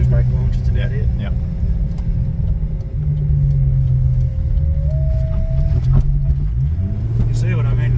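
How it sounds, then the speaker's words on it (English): A turbocharged Holden VL Commodore with anti-lag idles in a steady, rough rumble with a turbo whine over it, heard from inside the car as people talk over the engine noise. "Maybe a quick trans brake launch"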